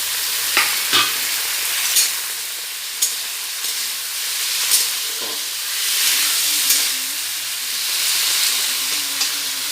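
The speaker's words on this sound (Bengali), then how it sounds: "পেঁয়াজ ভাজা হয়ে গেছে, এরপর টমেটো দিয়ে দিচ্ছি।" Onions and tomatoes sizzling in a hot pan while being stirred, the loud steady frying broken by repeated scrapes and clacks of the spatula.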